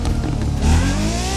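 Ferrari 599xx with nitro boost in The Crew 2, a loud close engine roar that surges and climbs in pitch midway as the boost kicks in, alone without talk.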